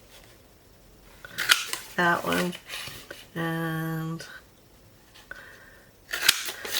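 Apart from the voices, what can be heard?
small circle hole punch punching paper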